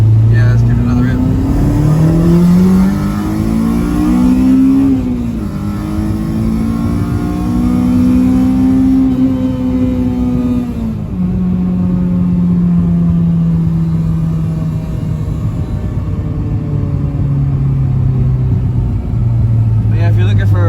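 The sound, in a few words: Honda Civic with K20Z1 engine revving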